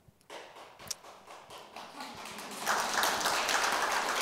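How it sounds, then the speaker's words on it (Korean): Scattered claps from an audience at a Buddhist dharma talk start sparse and tentative, then swell into fuller, louder applause toward the end. "그 박수 칠 내용은 아니고"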